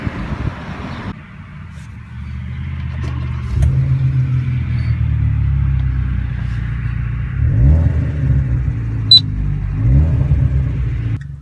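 Low, steady engine rumble heard from inside a black 2013 Hyundai Veloster Turbo with a manual transmission, swelling slightly as it pulls, with no speech.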